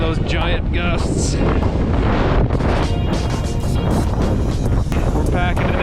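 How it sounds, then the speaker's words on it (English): Loud, constant roaring wind of a -20 blizzard on a frozen lake buffets the microphone, with rushing gusts and a churning water-like wash underneath, while voices talk faintly through it. "the wind is just ripping out there"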